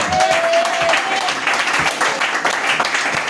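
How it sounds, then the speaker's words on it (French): Church congregation applauding in praise of Jesus, a steady dense wash of clapping with some voices mixed in throughout. "Acclamez Jésus pour ça."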